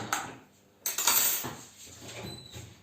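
A fork pricks tart pastry dough all over in its tin, making a few quick metallic taps and scrapes against the pan, one early tick then a louder cluster of clinks, close and uneven.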